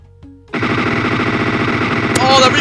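Rapid, sustained automatic gunfire in the Rainbow Six Siege tactical shooter, loud and continuous after a brief quiet start, with a sharp burst and ringing effects near the end.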